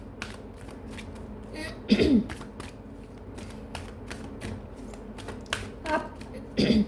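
Oracle cards shuffled by hand during a reading, giving a steady run of soft close slaps and flicks, with a few brief louder bumps and some faint background noise.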